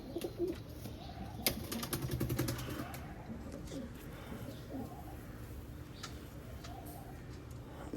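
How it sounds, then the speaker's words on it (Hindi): Soft cooing of Salara and Teddy pigeons, low rolling coos repeating quietly at a moderate distance over faint background noise. "ये सलारा कबूतर है ख्वाजा साहब का, आप देख सकते हैं।"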